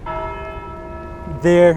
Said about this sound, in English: Wow, it's a loud bell.